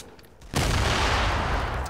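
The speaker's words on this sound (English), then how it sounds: "Do you like my grenade explosions?" A grenade explodes in Fortnite with a sudden loud blast that turns into a dense, sustained roar of rumbling debris and crackle lasting over a second, with no voices.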